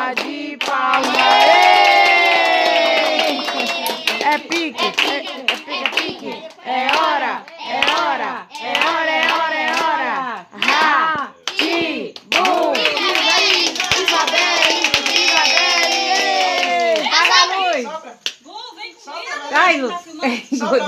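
Clapping and cheering from a crowd of adults and children at a child's third birthday party, the singing of the Portuguese birthday song carried over steady hands clapping close by for about twenty seconds.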